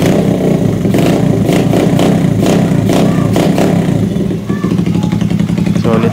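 Suzuki GD110 motorcycle with a bullet exhaust pipe running steadily close by, a loud continuous engine drone with some clatter and a brief dip before settling back to a rapid idle thump.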